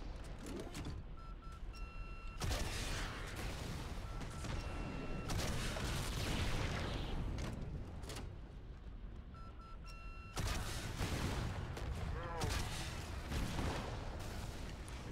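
Gunfire and explosive booms in the Halo 2 Anniversary video game, with tanks on the battlefield, come as faint bursts of shots and rumbling blasts, clustered in several loud stretches separated by quieter gaps.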